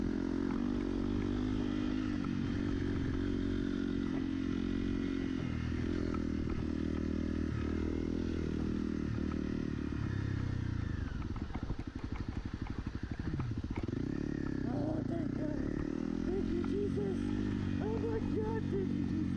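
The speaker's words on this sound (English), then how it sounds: "The bike felt like it was struggling a little bit" A motorbike engine labours steadily up a rocky creek trail at Little Morongo Creek, a loud continuous drone with clattering and scraping from the terrain, and a rider's voice heard over it at times.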